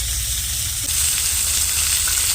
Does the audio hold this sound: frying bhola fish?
yes